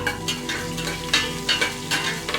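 Whole spices and slit green chillies crackling and sizzling in hot oil for a Hyderabadi kichidi, with scattered sharp pops over a steady frying hiss, close and fairly loud.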